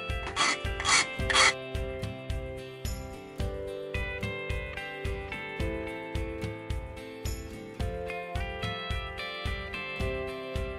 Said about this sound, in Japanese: ここの面だけね、2箇所ちょっと無理やりだけどもヤスリでね削ってみようと思います。